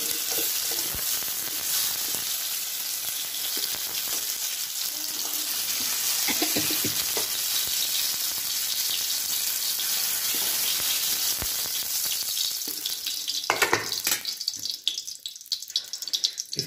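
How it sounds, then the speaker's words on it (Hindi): Eggplant (brinjal) fries in oil with a continuous close hiss and crackle of sizzling. Scattered clinks and stirring noises break in, with louder clattering toward the end. "ये भांटा जो है फ्राई हो चुका है"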